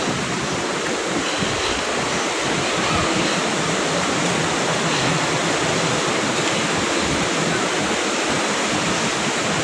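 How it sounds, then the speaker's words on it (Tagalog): Waterfall and rushing river water at Wawa Dam in Montalban, Rizal, a loud, steady broadband roar that fills the scene continuously with no voices over it. "May falls dun. Ayan, kung naririnig nyo yung agos ng tubig."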